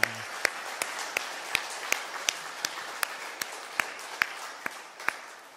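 A church congregation at a Sunday morning service claps along, sharp regular hand claps in a steady rhythm over a faint background murmur.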